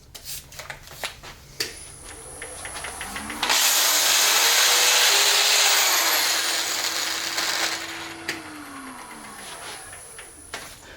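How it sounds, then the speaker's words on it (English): A power drill spins a 220-grit sanding attachment against a 3D print, giving a sustained whirring, rasping grind for several seconds between quieter rubbing and scraping handling noises. "You can't rub too hard when you're using the drill."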